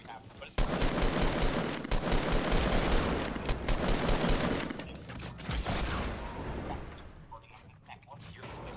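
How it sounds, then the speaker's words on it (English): Rapid gunfire from a revolver in Call of Duty: World War II, a dense run of loud shots and battle noise over most of the stretch, with a voice talking over it. "that sounds very weak for a fucking revolver"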